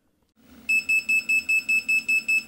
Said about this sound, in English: the buzzer keeps beeping and the backlight keeps lit